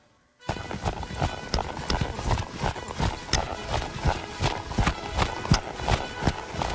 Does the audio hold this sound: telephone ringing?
no